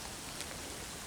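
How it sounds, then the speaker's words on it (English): Steady rain hisses evenly, a soft continuous patter with no voices. "And it's raining"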